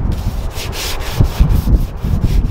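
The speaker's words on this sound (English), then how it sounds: "doing some hand sanding, just getting a light distress on the edges here of this chair." Hand sanding the painted edges of a wooden chair with 220-grit sandpaper to lightly distress them, a steady close scratchy rubbing in repeated back-and-forth strokes with no talk.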